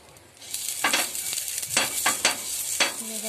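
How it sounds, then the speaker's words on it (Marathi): Oil spread across a griddle heated on a high gas flame sizzles steadily, with repeated brushing and scraping strokes close by and no one speaking. "आम्ही फास्ट गॅसवर भिडा गरम केलाय। आता मी त्याला तेल लावून घेते।"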